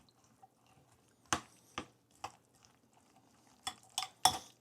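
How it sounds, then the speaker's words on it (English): Black bean salad being tossed in a bowl, a handful of sharp, separate clinks and wet scrapes of utensils against the bowl with near-silence between them. "now we just want to toss this so everything's coated"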